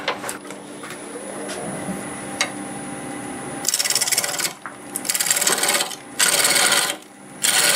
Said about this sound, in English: Just turn some of this away now.